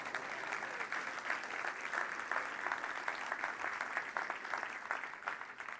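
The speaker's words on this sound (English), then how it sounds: "Round of applause, please" A keynote audience at Magento's Imagine Conference 2011 gives sustained applause, a dense, even wash of many hands clapping in a large room that holds steady for several seconds.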